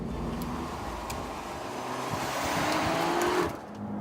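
A hot hatch is driven hard around a race track, its engine droning loudly and rising in pitch as it accelerates, then dropping away near the end.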